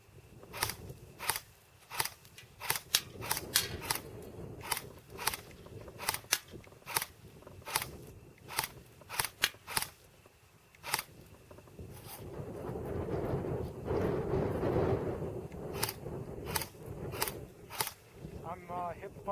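A Cybergun AK47 AIMS blowback airsoft gun fires from the hip, giving sharp, close snapping shots in an irregular string of single shots and quick pairs. A person talks quietly underneath, and a stretch of muffled handling noise comes near the end.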